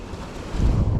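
Strong monsoon wind buffets the microphone at Uchilakuth viewpoint, a dense rushing roar that swells louder in the second half of this brief moment.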